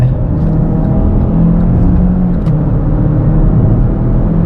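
A 2022 GMC Terrain SLT with a 9-speed transmission accelerates onto a highway in rush-hour traffic, its engine drone and road roar steady and loud from inside the cabin with no break.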